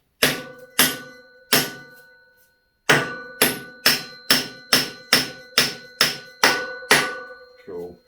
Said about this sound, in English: I'll give it a whack with the hammer first till it's flush